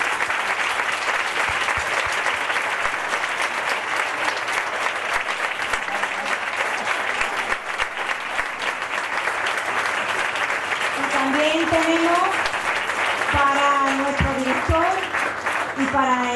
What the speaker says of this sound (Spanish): Muchas gracias, un aplauso para José María.